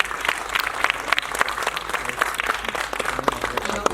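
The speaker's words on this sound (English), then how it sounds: "Come on, can we have a loud round of applause?" Lively audience applause at a beauty pageant charity event, with brisk individual claps standing out in a fairly close, steady round of clapping.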